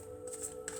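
Tarot-style reading cards are shuffled by hand in two quick riffling bursts, close and crisp against a quiet room hum.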